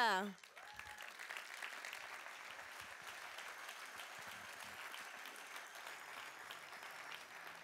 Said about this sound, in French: Un chaleureux applaudissement pour André Borschberg